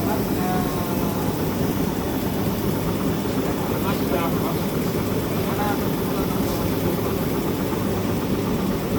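A printing factory machine in Saudi Arabia runs steadily throughout, a dense continuous mechanical drone and hum with a faint higher whir, while people talk over it.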